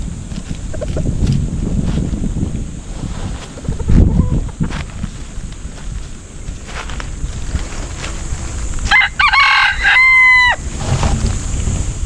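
A red junglefowl crows once, a rising then sustained call, heard over wind and a low engine rumble outdoors.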